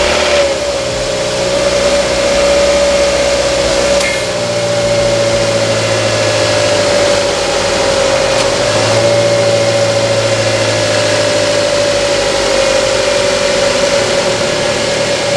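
A Mazda NC Miata fitted with a Track Dog Racing intake runs steadily near idle, a constant loud engine drone with a slight dip and swell in revs partway through, heard alone without talk.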